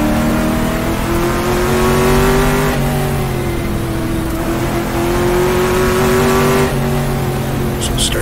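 A 1966 sports racing car in GTR2 on the Targa Florio road circuit, its engine loud and close, revving and holding steady tones with gear shifts as pitch rises and dips, while someone talks over it.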